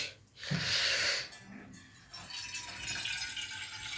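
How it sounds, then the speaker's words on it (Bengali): Water swished around to rinse a kitchen vessel and then poured out, a short rushing splash followed by softer trickling and dripping, close by. "জলটা একটু ধুয়ে ফেলে দিই"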